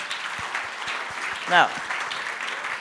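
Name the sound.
audience applause for entrepreneurs coming on stage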